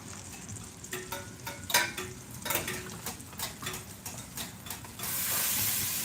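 Steady frying sizzle and hiss of butter melting in a pan over moderate heat, with occasional stirring scrapes and soft clinks, growing into a denser, louder hiss near the end.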